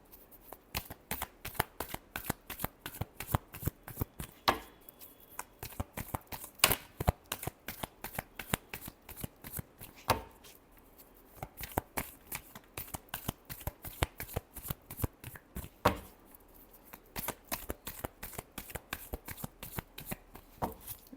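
Tarot cards are shuffled by hand in a long run of quick riffling bursts, crisp and close, pausing briefly now and then before resuming, with no voice over them.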